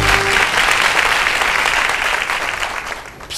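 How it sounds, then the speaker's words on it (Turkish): A television game show studio audience breaks into loud, dense applause for a contestant, sustained clapping that eases slightly near the end. "alkışlıyoruz evet Arzu'yu"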